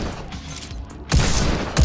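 Gunfire in the VR shooting game Robo Recall, played with Oculus Touch controllers: a dense rumbling burst of shots that swells, then a second heavy volley near the end, loud and booming.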